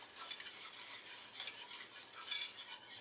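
Stevia stirred into softly boiling melted butter in a pan, a quiet steady swishing and light scraping of a utensil with faint bubbling, close and soft, no talking.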